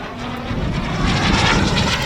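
A very large turbine-powered jet model airplane flies a loop, its steady engine roar rising slightly and swelling as it passes, heard alone without talk.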